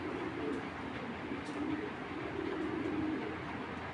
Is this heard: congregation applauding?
no